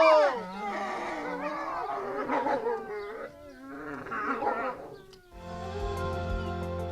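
Snarling, growling wolves with yelps and whines, rough and agitated, followed by a sustained howl-like tone near the end; no speech.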